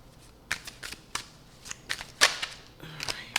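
A deck of tarot cards is shuffled by hand, producing a run of crisp riffling snaps and slaps at an irregular pace, close and fairly clear, with a brief voice murmuring near the end.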